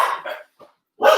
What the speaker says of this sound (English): There go me dogs again.